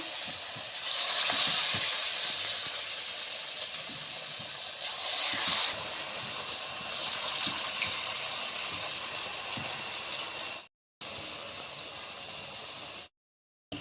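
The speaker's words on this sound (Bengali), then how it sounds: "এখন আমি বসায় দিব পকোড়িটা তেলটা দিয়ে হয়ে গেছে পকোড়িটা" Onion pakoras fry in hot oil, a continuous close sizzle and bubbling with small scraping and tapping sounds, steady throughout apart from two brief cuts to silence near the end; no one speaks.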